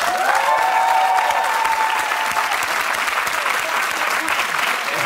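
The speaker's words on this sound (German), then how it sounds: "Mach einen riesengroßen Applaus" A live TV studio audience breaks into loud, sustained applause, dense clapping filling the room steadily throughout, with a faint voice or tone briefly audible at the start.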